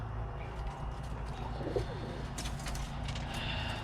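Birmingham Roller pigeons in a loft coo softly in low, rolling murmurs, with scattered faint chirps and wing shuffles over a steady background hum, no one speaking.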